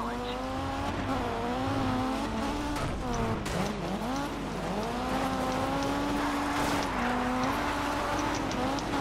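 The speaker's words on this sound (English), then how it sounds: "We got a turbocharger in this car as well." A turbocharged rally car in the Colin McRae Dirt 2 video game revs and accelerates, its engine pitch climbing and falling through gear changes, close and continuous throughout.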